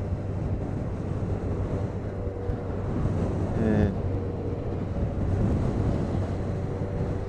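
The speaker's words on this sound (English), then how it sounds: "that's as rough as I've seen the river in a long, long time" Rough, choppy water of the Humber river churns under the bridge, heard as broad wind-buffeted wave noise with steady surf wash. Someone briefly speaks over it.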